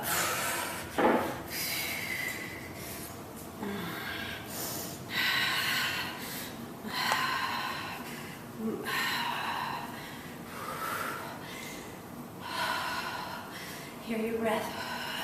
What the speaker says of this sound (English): Hear your breath.